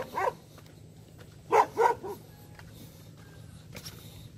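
Dog barking outdoors near a riverside fishing spot in rural Dong Thap, Vietnam: a single bark, then a close pair of loud barks, with fainter barks later over a steady low background hum.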